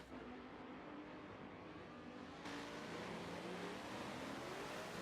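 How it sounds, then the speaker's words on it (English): Race car engine in a GT racing game at Monza, a steady loud roar with rising revs as the tires spin briefly coming out of a corner, continuous and close with no talk. "Chum spins the tires a bit"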